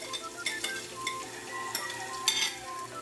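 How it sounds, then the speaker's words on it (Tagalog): Chopped ginger, garlic and onion sizzle softly in a frying pan, with a utensil stirring and scraping in a few short strokes, close and fairly quiet. "hintayin natin yung maluto yung ating mga ating sibuyas at bawang para mabango siya"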